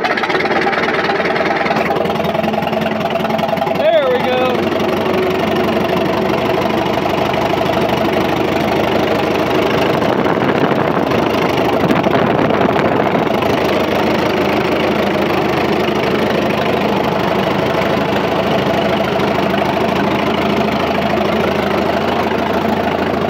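Engine of a 1937 Farmall F20 tractor idling, a steady rough rumble with faint knocking that runs loud and unbroken for over twenty seconds, with a brief clank near the start and no talking.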